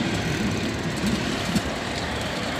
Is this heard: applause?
no